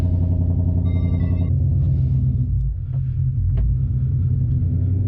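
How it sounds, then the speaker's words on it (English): A Ford Mustang with an aftermarket eBay exhaust rumbles at idle with a deep, steady, close-up drone, and the pitch briefly dips and swells midway. "The eBay exhaust, the whole eBay Mustang feels so good."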